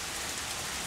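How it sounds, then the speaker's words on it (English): Dense, steady hiss of heavy rain pouring down, a constant wash of noise with no breaks. "It's really raining harder."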